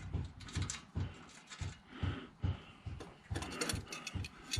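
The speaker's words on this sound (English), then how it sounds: "let's take out these two screws right here and bolt my duplanker up here" Screws being removed from a work table, with repeated mechanical ratcheting clicks and short metallic turns in a steady rhythm, close and moderately loud, with no talking.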